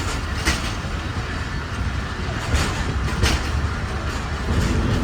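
A passenger train near Karachi rolls steadily along the tracks, a continuous loud rumble with faint rhythmic rail clacks throughout and no talking.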